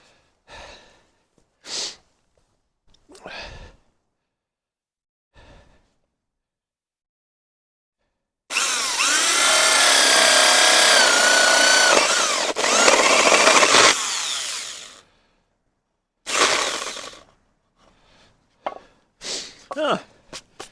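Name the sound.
big power drill drilling hole in wooden birdhouse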